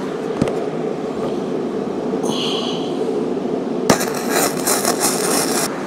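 A second weld pass is laid on the breakaway of a Frontier DM 5060, with a harsh, crackling buzz that starts partway through over steady background noise after a few faint clanks.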